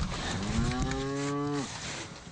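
A dairy cow on a large farm west of Nephi gives one long, loud, close moo that holds steady and then drops off, with faint farm ambience before and after.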